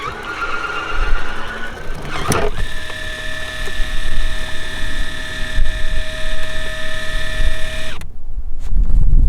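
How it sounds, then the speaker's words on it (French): Minn Kota Ultrex electric trolling motor on a bass boat deploying itself into the water: a sharp mechanical clack, then a steady high motor whine over about six seconds of outdoor background noise, ending abruptly, with no speech. "le moteur électrique de chez Minn Kota, c'est l'Ultera et sa spécificité c'est qu'il se met à l'eau tout seul"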